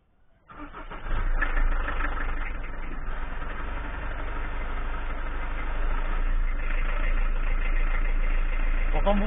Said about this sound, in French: comme vous voyez, ça démarre bien, premier coup, pas de problème